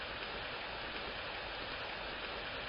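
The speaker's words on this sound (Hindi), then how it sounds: "शाम का टाइम था, तो हल्की फुल्की बारिश स्टार्ट हो गई" Light evening rain falls at the Sindh Museum in Hyderabad, Pakistan, as a steady, soft, even hiss without pauses or voices.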